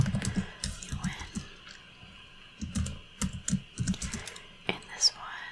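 Soft, close clatter of computer keyboard keys in short bursts while coding a rock, paper, scissors game in Python, with whispering between the typing runs.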